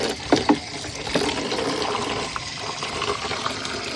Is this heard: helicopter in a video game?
no